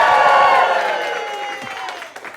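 A live studio audience in a theatre applauds and cheers, loud and close at first, then fading and thinning out over a couple of seconds.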